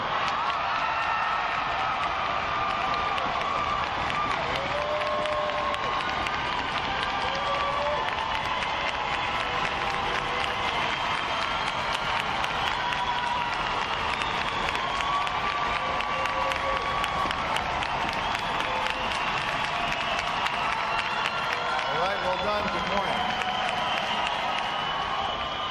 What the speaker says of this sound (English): So you're going to scream, shout, stomp, do whatever the heck you got to do.